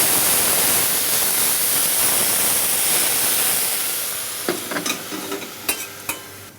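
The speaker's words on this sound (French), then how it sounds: "On déglace au vin jaune." Morels and shallots deglazed with vin jaune wine in a pan, a loud close sizzle and hiss that gradually eases, followed by a few sharp utensil taps and scrapes near the end.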